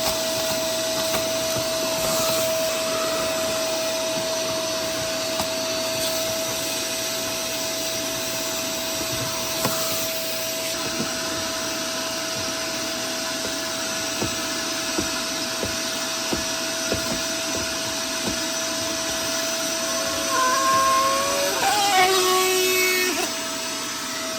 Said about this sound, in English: we're gonna connect it to our vacuum